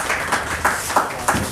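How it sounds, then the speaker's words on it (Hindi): An audience at a National Youth Day ceremony claps for Farhan, a third-place finisher at a national shooting championship, in brief rhythmic bursts of hand claps close by. "तालियां फरहान जी के लिए"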